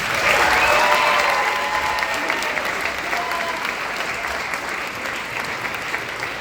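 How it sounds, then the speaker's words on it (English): Students at a big band concert applaud their parents, a full, sustained round of crowd clapping that starts strongest and gradually thins, with faint voices mixed in. "So students, will you give your mom and dad a round of applause?"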